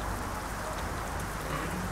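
Steady rain patters down in Euro Truck Simulator 2 while driving a Kamaz 5410 truck, a dense even hiss filling the whole stretch with no pauses.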